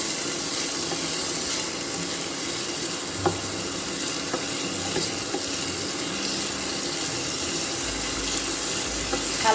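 Vegetable fried rice stirred and frying in a pan, a steady broadband sizzle running throughout with occasional soft scraping and clinks of the utensil, close and continuous.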